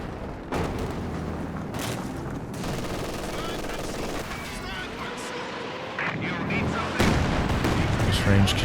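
Howitzer artillery and mixed gunfire in a Company of Heroes 2 battle: heavy booms and rattling shots layered densely, with a louder burst near the end, while a voice talks over the action.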